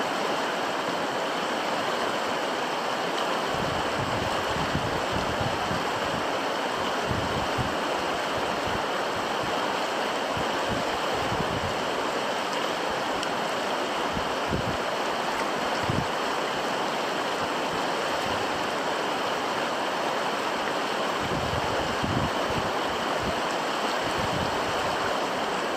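A river flows steadily past in the Brooks Range of northern Alaska, a continuous broadband rush of water with gentle surges, close and even throughout with no voices.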